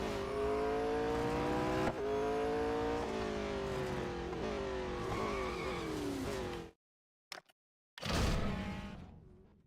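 A race car engine in the mobile racing game Real Racing 3 screams at high revs and shifts pitch through gear changes. It drops to sudden silence, gives a brief blip, then roars back loudly before fading.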